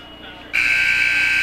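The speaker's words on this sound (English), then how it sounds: "There's the buzzer" A basketball buzzer at a girls JV high school game, a loud sustained blare that starts abruptly and holds steady, under a faint background hum.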